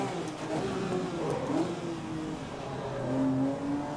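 A Porsche GT car engine in Grid 2019 revs and surges in a racing game, a loud, continuous engine note that rises and falls in pitch across the whole stretch.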